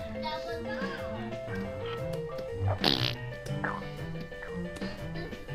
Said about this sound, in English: Something made a fart noise.